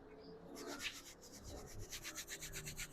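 A brush scrubbing a thin wash of paint onto a surface, heard as faint, close, rhythmic rubbing strokes that speed into a regular back-and-forth pattern, alone without talk.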